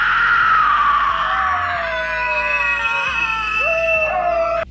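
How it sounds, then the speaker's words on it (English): A woman screams in a scene from The Texas Chain Saw Massacre (1974), loud, sustained, wavering shrieks that rise and break, close and piercing, over a low background. "Sally wakes up screaming at the dinner table"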